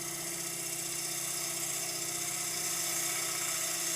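A gouge taking a light cut on a wormy sycamore bowl spinning on a wood lathe, a steady humming whir with a high, even cutting hiss throughout, no talking.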